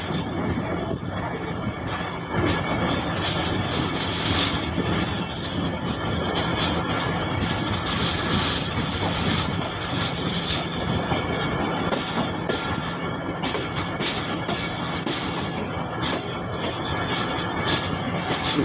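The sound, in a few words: Sir Syed Express train changing track onto main line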